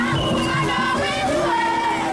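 Large crowd gathered at Bunia-Murongo airport to welcome the provincial governor, a steady, dense murmur of many voices with scattered shouts and children's cries, continuous and fairly close throughout.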